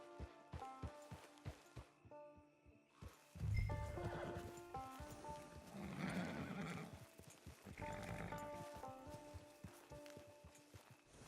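A horse in Red Dead Redemption Online gives a loud whinny while its hooves clip-clop in a steady walking rhythm, with repeated neighs and snorts over the hoofbeats, fairly close.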